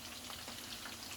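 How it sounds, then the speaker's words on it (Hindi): A soft, steady sizzle of nigella seeds frying in hot oil, a continuous fine crackling hiss with no voices. "जैसे ही इसका ये क्रैकल करने लगे तो हम इसका तड़का लगा देंगे"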